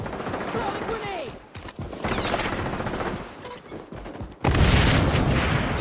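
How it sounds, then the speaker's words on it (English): Grenade blast and bursts of gunfire in a chaotic shooter match around a capture zone: rapid rattling volleys and booms, ending in a loud, broad explosion, with no clear talk over the din. "Throwing grenade!"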